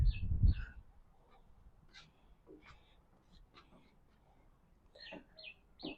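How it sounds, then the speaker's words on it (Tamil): Birds call outdoors at Diyasaru Park in Sri Lanka, a nature park with water: scattered short chirps and caws at moderate distance, with a brief low thump at the start and quiet ambience between calls. "பறவைகளுடைய சத்தம்"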